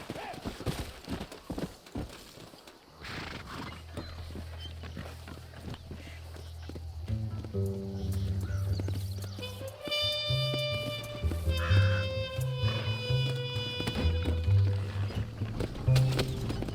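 Horse hooves clip-clop in steady rhythm in the Western video game Red Dead Redemption, moderately close, joined partway through by a swelling musical score, with brief spoken lines over it.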